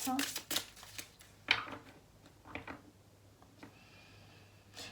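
Cards being shuffled for a weekly tarot-style reading, a few short papery riffles and slaps near the start, with a voice speaking over parts of it.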